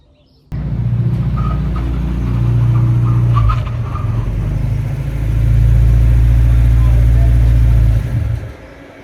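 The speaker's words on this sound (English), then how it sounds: "the exact moment I heard a VVL powered Datsun heading this way" A 50-year-old Datsun car swapped with a VVL engine approaches, its engine rumble rising loud and steady for several seconds, swelling again as it nears, then cutting off.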